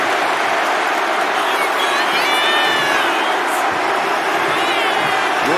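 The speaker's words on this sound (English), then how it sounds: "And Mark is really getting the crowd going." A big arena crowd roars and cheers without a break at a WWE 2K25 wrestling match, dense and loud, with whistles and shouts rising through the noise.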